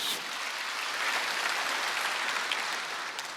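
A church congregation bursts into steady applause, a dense, even clapping from many hands that fills the room for several seconds and tapers slightly at the end.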